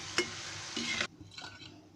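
Shankarpali, small Marathi sweet dough pieces fried for Diwali, sizzle in hot oil with a steady bright hiss and a metal clink. The hiss cuts off abruptly, leaving faint stirring and scraping close by, with no talking.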